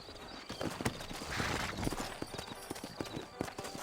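Hooves clip-clop in a quick uneven rhythm on hard ground, several horses moving together in the video game Red Dead Redemption, with faint background sound beneath.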